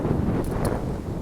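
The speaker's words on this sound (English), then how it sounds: "it's a little windy." Gusty wind by the lake in a Chicago neighborhood, a steady low rumble of wind buffeting the microphone through the whole moment, with faint rustling on top.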